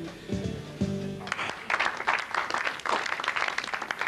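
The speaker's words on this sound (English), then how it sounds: "Big round of applause." Audience applause and cheering at a live show break out after a short musical passage, a dense wash of clapping that swells and carries on loudly for several seconds.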